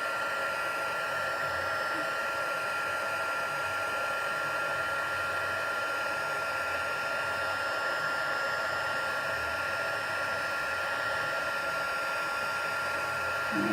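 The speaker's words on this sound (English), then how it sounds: "forgive the noise, getting my embossing tool out again" Embossing heat tool blowing hot air over a card during craft work, a loud steady whirring hiss that runs unbroken throughout, with no talk over it.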